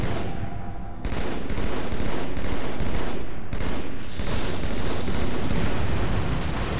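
Battle rifle gunfire from the game Halo 2 rattles out loud and close in rapid, overlapping volleys. It runs continuously amid heavy battle noise, with no voices.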